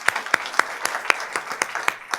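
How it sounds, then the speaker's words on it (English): Audience applause for a row of speakers at a land stewardship event, with loud, sharp claps spiking steadily over a dense, continuous patter of hands throughout the short burst. "So one more round of applause for all of our speakers."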